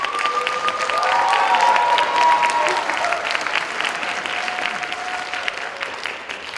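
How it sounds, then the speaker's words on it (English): Audience applause at a high school band winter concert, with a full room clapping in a dense, steady wash and a few voices faintly audible underneath, gradually easing off toward the end. "please applaud"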